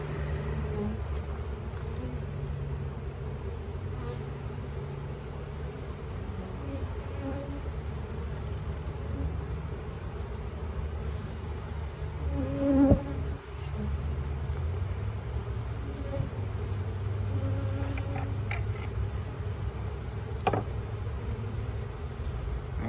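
Honey bees hum steadily around an open Langstroth hive during a full inspection of the soybean hives, a continuous close drone with one louder swell near the middle and no talking.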